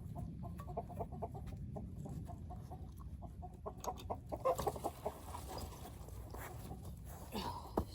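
Chickens cluck and chatter nearby in a steady jumble of short calls, with a few louder squawks toward the end.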